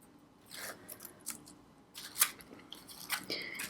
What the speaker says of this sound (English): So I'm going to take the tape backing off of both sides on one